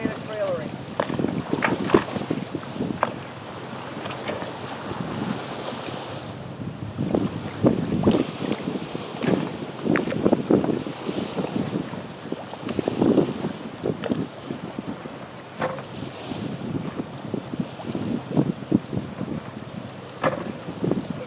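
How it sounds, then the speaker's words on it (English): A steady crosswind buffets the microphone while a boat is loaded onto a float-on trailer at the water's edge, with gusty rumbling throughout and intermittent talk over it. "got a pretty good crosswind"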